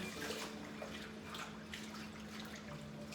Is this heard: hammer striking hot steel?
no